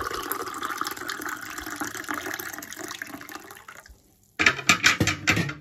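Water splashes and runs steadily for several seconds, stops briefly, then returns in a few louder gushing bursts close by.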